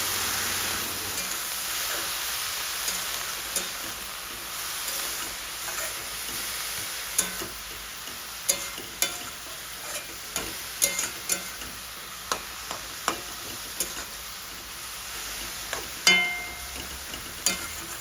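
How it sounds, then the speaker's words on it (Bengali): Fenugreek greens frying in a pan are stirred with a spatula, giving a continuous soft sizzle under a string of sharp scraping taps and clicks, spaced roughly a second apart, close and fairly loud. "এবার এটাকে আবার ভালো করে নাড়াচাড়া করতে হবে।"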